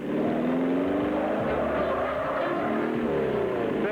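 Car tearing away with tires squealing, a loud sustained whine of rubber and revving engine holding for several seconds at close range without pause.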